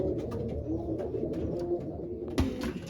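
Racing pigeons coo in a low, throaty, continuous murmur from a crowded loft, with one sharp flutter or clap near the end.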